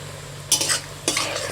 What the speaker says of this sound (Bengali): দেখুন বন্ধুরা কত সুন্দর ভাজা হচ্ছে পেঁয়াজগুলোটা